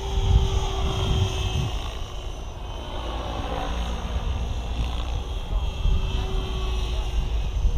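Steady engine whine and rotor drone of an Align T-Rex 760X model helicopter, continuous and fairly loud throughout, with slight changes in pitch.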